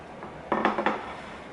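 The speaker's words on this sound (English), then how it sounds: "Now I'm just going to coat this pan with my handy dandy little pastry brush." Pastry brush coating a cake pan, a quick cluster of three or four light scraping knocks against the metal pan, close and fairly quiet.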